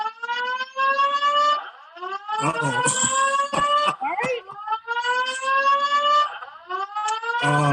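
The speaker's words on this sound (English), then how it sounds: "That's a fire alarm." A fire alarm goes off indoors at a talk, a loud rising and falling electronic whoop repeating in steady cycles, with a voice speaking briefly over it midway.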